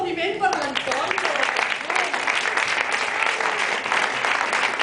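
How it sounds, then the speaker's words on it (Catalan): An indoor concert audience breaks into loud, steady applause that runs unbroken throughout, with dense clapping from a crowd close by and voices mixed in. "Un aplaudiment"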